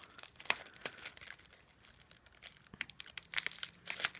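Press and seal plastic wrap peeled slowly off a handmade floating frame card, giving soft crinkling and tearing rustles that swell in bursts, close and fairly quiet with no voices.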